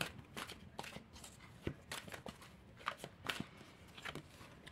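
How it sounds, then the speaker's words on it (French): An oracle deck is shuffled by hand, with a quick run of crisp, papery card flicks and riffles, close and quiet, followed by a card being drawn. "on va tirer une deuxième carte pour avoir un complément d'information par rapport à ça"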